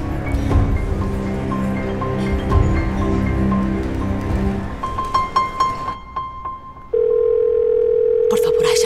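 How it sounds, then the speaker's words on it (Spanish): A telephone rings indoors, a steady electronic tone near the end following a stretch of talk and music with clattering. "Por favor, Aishan, contesta el teléfono"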